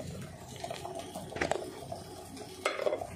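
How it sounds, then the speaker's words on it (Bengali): Soybean chunks and potato frying in a pan, a low sizzle broken by a few sharp scrapes and clinks of a spatula against the metal, quiet and close. "ভাজতেছি, ভাইজা উঠাই নিব"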